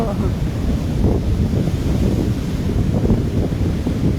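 Surf rolls and washes in repeatedly under gusty wind buffeting the microphone, a continuous low roar with soft swells.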